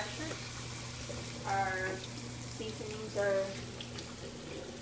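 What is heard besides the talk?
cold tap water running over pressure cooker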